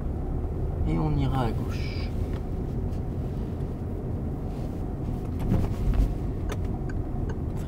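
An engine of a learner's car accelerating and shifting into second gear, a steady low drone running throughout, close and under an instructor's talk, with a brief rise near the end.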